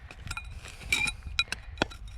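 Glass sauce bottle being dug out of the soil, giving several faint, sharp clinks and clicks spaced irregularly, some slightly louder than others.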